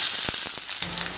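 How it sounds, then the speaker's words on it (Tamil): Sliced large onions dropped into hot oil with crackling mustard seeds and urad dal, giving a steady close sizzle and fry with a few soft stirring knocks, no talk. "கடுகு நல்லா பொரிஞ்சதும் 2 பெரிய வெங்காயத்தை நீல வாக்கில் நறுக்கியிருக்கேன், அதையும் உள்ள சேர்த்துக்கலாம்."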